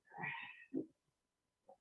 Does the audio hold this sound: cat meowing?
yes